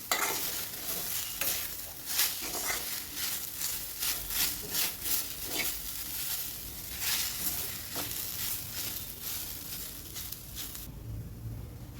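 Grated potato and crushed peanuts stirred in a pan for a fasting-day dish, giving steady scraping and soft sizzling with rhythmic spoon strokes throughout, fairly close and with no talking.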